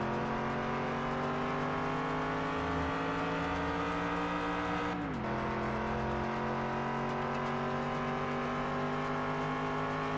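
A car's engine racing in the PS2 game Test Drive Unlimited, a steady high drone at speed that dips briefly as a gear shifts midway, then climbs again, continuous and unbroken.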